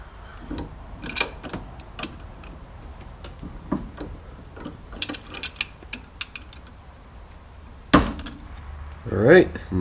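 Wrench ratcheting and clicking on a Loctite-coated upper steering box bolt of a Jeep XJ, short metallic ticks in irregular bursts, close up, with a louder clunk near the end and faint talk in the background.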